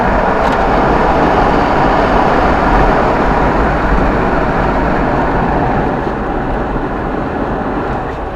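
Loud, steady roaring rush of wind and road noise through an open car window while driving at speed on the Princes Highway in Victoria, Australia, continuous throughout with no voices.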